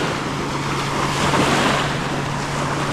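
Waves wash onto a river beach near Manaus, a continuous broad rush of water with a slight swell in the middle, close and fairly loud, mixed with some wind noise and no voices.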